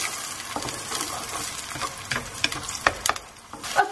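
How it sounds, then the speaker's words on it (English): Onions frying in oil for a mild Mughlai chicken gravy, a continuous sizzle close by, broken by scraping stirs and irregular clacks of a spoon against the pan. "my onions have been cooking for about 4 to 5 minutes and the oil is starting to release on the side"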